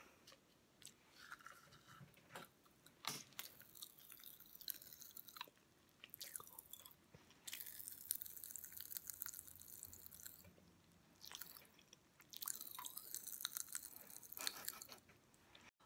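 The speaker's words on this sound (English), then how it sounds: "We're gonna do a little ASMR. I'm gonna put it in my mouth and have you guys listen to me" Grape Pop Rocks candy crackling and popping in a mouth, heard very close and quiet, with wet chewing, crunching and fizzy bursts coming and going in waves.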